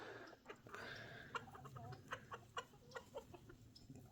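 Rhode Island Red chickens cluck and peck at scattered scratch grain in a fenced run, with a steady chorus of soft, close clucks and sharper short calls spread over a few seconds.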